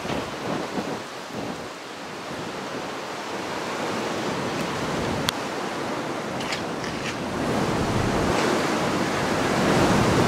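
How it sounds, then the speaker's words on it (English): Strong wind roars around the old Dover coal aerial ropeway structure, a loud, continuous broadband rush with gusts that build toward the end, with no voices. "Oh, you can hear that wind."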